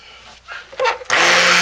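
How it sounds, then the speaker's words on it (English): A stick blender whirring in homemade soap batter in a crock pot on low, short stuttering bursts building into a loud continuous buzz up close. "we're still just working with our stick blender to bring it to trace"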